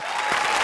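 A comedy show's studio audience breaks into a brief, loud burst of applause, dense and even.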